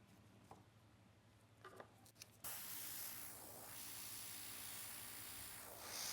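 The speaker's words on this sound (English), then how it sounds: "And I'm spraying on the top." An Airnails airbrush sprays a top coat onto nails, a soft hiss that starts with faint sputters and then runs as a steady, close, continuous spray.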